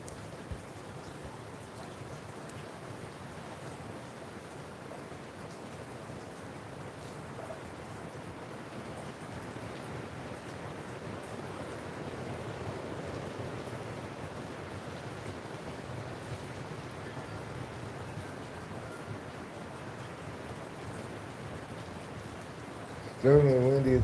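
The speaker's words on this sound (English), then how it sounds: "Certainly windy at the moment." Strong wind blowing outdoors, a steady low roaring rush that stays fairly faint and continuous for a long stretch, with a voice cutting in at the very end.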